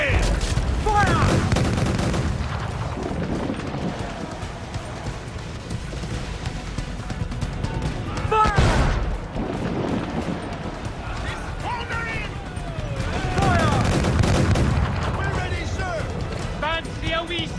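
Ship cannons boom and gunfire crackles in a naval battle in the video game Assassin's Creed IV: Black Flag, with repeated heavy blasts over a continuous roar of combat while voices shout.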